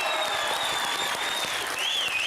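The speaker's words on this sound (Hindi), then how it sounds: "जोरदार तालियां हो जाए" Studio audience applause for an actor on a comedy roast show, continuous dense clapping with a sustained high tone running beneath it and a brief shifting whistle-like note near the end.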